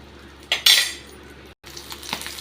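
Ingredients for kara chutney sauté in a pan: a sharp metallic scrape and clatter of a utensil, then soft intermittent stirring with a faint sizzle, close up and without talk.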